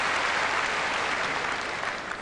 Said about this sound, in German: Und einmal mehr Applaus von Michael Stich.